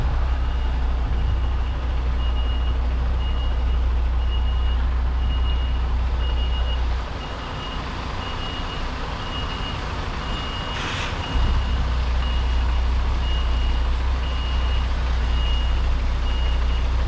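A truck close by on a road during a night out in Rugby, England, with a low engine rumble running steadily beneath a regular, evenly spaced series of reversing beeps, no voices.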